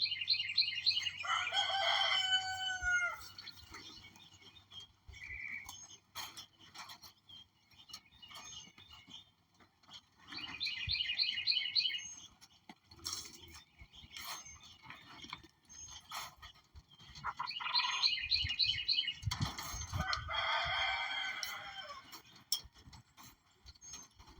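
A quail gives several short, shrill calls in three separate bouts, with quieter chirps and rustling in between; no talking.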